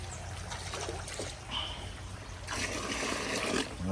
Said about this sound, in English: So I will just add this water from the pond to make sure that I can remove the duckweed above it.